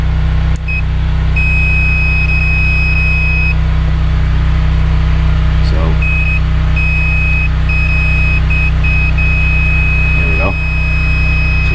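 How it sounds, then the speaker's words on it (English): A multimeter on a cab auxiliary-lighting distribution box gives a thin, steady electronic beep when the switch is thrown. The beep runs in stretches and cuts out between them, sitting over a loud, constant low hum. "when you go ahead and you throw the switch, the multimeter makes a little noise"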